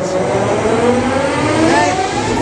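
A heavy locomotive engine, which turns over slowly for about two and a half turns, cranks with a steady mechanical drone and rising whine, loud and continuous throughout.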